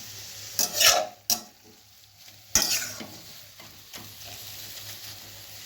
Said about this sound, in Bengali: এটিকে কিন্তু কিছুক্ষণ আমাদের ভেজে নিতে হবে। আমি গ্যাসের আঁচ মিডিয়ামে রেখেছি।